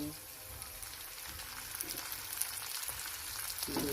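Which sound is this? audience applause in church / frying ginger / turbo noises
frying ginger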